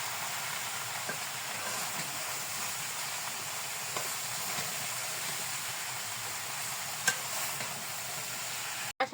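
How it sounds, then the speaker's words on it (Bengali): Soft steady sizzle of bottle gourd sautéing in oil in a pan, a constant low frying hiss with occasional faint scrapes of stirring, heard close and quiet with no talk. "এখন কষাতে কষাতে অনেক কমে যাবে লাউটা।"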